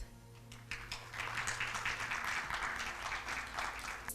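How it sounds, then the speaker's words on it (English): A crowd applauds steadily, a broad wash of clapping that swells after the first second and holds over a low background hum. "I'd like to please ask for your warm round of applause"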